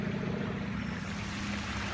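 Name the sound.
small man-made waterfall flowing into a pipe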